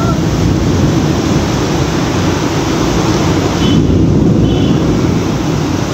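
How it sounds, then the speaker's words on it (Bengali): Heavy rain and strong wind during a thunderstorm at a house make a loud, constant roar, a dense wash of pouring water and gusting air that fills the whole clip with no letup. "অনেক বৃষ্টি, অনেক। এই দেখছেন এই পরিমাণে শব্দ হচ্ছে"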